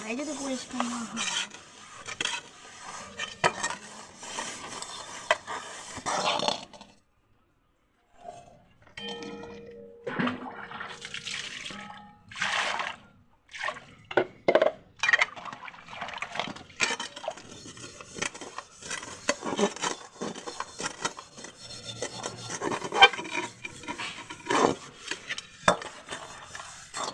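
A kadai (wok) is scrubbed and cleaned, giving bursts of close scraping and rubbing, metallic clinks and brief pauses, with one near-silent gap partway through.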